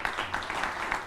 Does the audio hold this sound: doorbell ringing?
no